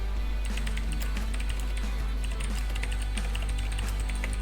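Keys clatter steadily on a computer keyboard while a message is typed into a Linux terminal chat, a continuous close run of light clicks over a constant low hum, with no speech.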